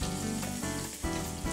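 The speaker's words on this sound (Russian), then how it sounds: "в сковороду к овощам и обжариваем." Vegetables, with potatoes and minced meat, fry in a pan, giving a loud, continuous crackling sizzle with brief dips, and nobody speaks.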